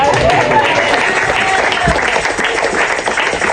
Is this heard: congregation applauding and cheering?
yes